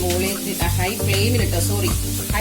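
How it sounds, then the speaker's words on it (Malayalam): Chopped onion frying over a high flame in a pan for vegetable chowmein, a continuous close sizzle broken by the scrape and clatter of stirring. "ഫ്ലെയിമിലിട്ട് ഇത് നന്നായി വേവിച്ചെടുക്കുക."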